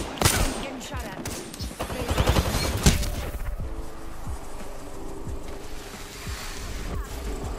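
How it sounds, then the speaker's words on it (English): Bursts of rapid automatic gunfire crackle in an Apex Legends match, loudest in the first three seconds, then fade into a quieter hum with scattered distant shots. "Getting shot at."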